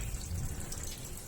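Hot water runs from an Anlabeier instant electric water heater, a soft, even faucet stream heard steadily throughout at low volume.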